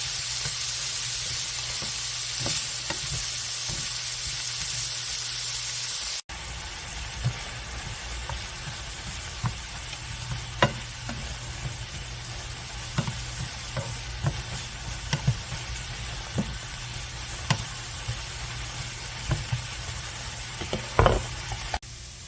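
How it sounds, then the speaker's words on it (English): Diced vegetables including onion sizzle steadily in a skillet, close and even. Intermittent scrapes and knocks from stirring sound over the continuous frying hiss, and the level shifts once partway through. "you want to cook this for about 5 minutes until these veggies start to soften up"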